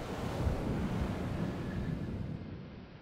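Ocean waves washing onto a beach in Half-Life 2: Lost Coast, a soft continuous surf roar with wind, fairly quiet and fading slightly toward the end.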